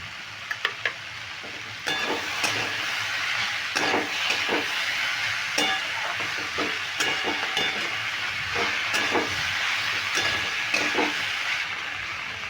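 Ash gourd and fried lentil dumplings (bori) stir-fried in a pan, a steady close sizzle with repeated scraping and clinking stirs at irregular intervals, preceded by a few quick taps before the frying noise begins.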